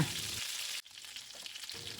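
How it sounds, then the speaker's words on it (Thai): Chicken wings pan-fry in their own rendered fat, sizzling and crackling close up, with a brief pause as the pan is stirred or moved before the frying noise resumes; no talking. "มาจี่ในกระทะแบบนี้ หนังก็จะกรอบ"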